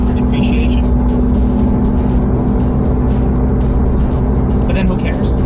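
Porsche 911 GT3 RS engine cruising with its sport mode switched off: a steady, loud low drone with road rumble, continuous and unbroken throughout.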